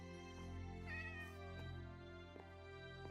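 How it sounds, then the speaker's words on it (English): A cat meows in a Minecraft game world, a clear tonal mew with bright harmonics heard alone over steady quiet game music, fairly soft and close. "Oh, a kitty!"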